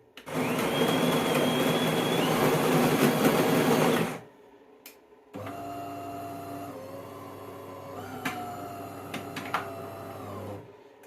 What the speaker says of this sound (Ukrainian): Ну, Спробуємо зробити філіжанку кави.